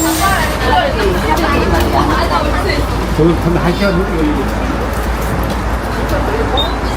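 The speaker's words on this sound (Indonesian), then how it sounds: "Bus kita sudah datang." A city bus pulls up to a stop in Suwon, South Korea, its engine rumble and road noise steady and close while people chat nearby over the traffic.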